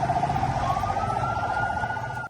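A wailing ambulance siren sounds steadily and loudly over traffic noise in a city where war has given way to traffic jams and car horns.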